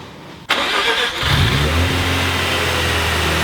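A rotary car engine cranks and catches with a sudden burst, then settles into a loud, steady idle close by.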